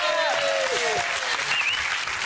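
A studio audience claps enthusiastically for a fire-and-flame brass performer on a TV talk show, dense steady applause with cheers and whoops rising over it throughout.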